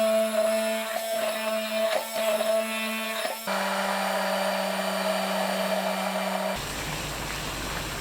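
A kitchen blender whirs steadily, grinding pine nuts, onion, garlic, milk, salt and honey into a dressing, its motor pitch shifting partway through, loud and close throughout.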